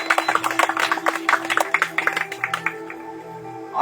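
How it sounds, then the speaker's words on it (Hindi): A church congregation claps joyfully for God, many hands beating a quick steady rhythm close by over soft sustained musical tones, the clapping thinning slightly toward the end. "एक खुशी से हम ताली बजाते हैं परमेश्वर के लिए"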